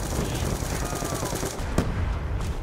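In Call of Duty Black Ops 2 Zombies on Nuketown, a weapon fires in a rapid, loud, dense burst of shots with a single sharper bang near the end.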